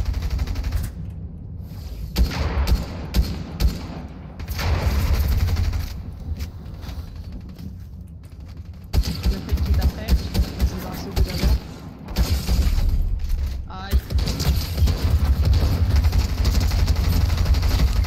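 Dense bursts of automatic gunfire and sporadic single shots crackle through a video game shootout with snipers on a mountain, loud and continuous with brief gaps, while players talk over the action.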